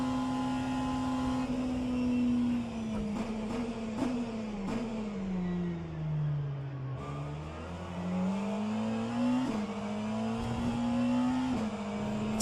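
Hypercar engines in a sim racing endurance game drone steadily throughout, pitch rising and falling with gear changes and revving, loud and continuous with no talk.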